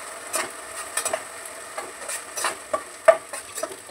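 A palak (spinach) mixture is stirred in a pan, with repeated soft scraping strokes over a faint sizzle.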